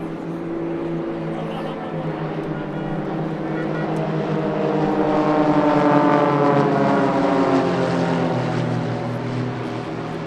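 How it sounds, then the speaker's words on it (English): An Extra 300S aerobatic propeller plane flies a manoeuvre at an airshow in Sichuan, its engine droning steadily and rising in pitch and loudness toward the middle, heard from a distance with wind and ambient noise. "Although it's the Extra 300S we see here performing this rather spectacular manoeuvre."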